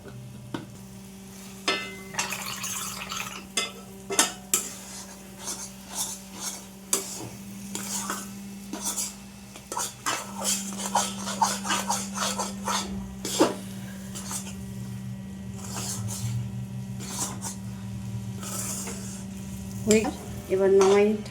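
A spatula stirs sabudana ladoo mixture with ghee in a pan, giving repeated close scraping strokes over a soft sizzle and a constant low hum.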